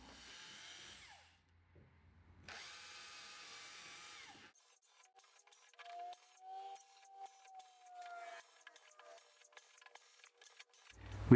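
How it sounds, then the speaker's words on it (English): A power drill bores holes through a wooden block for a traditional Mascall spring mousetrap, running in bursts with pauses between passes, close and moderately loud, with no talking. "So I'll just drill those and show you what it looks like."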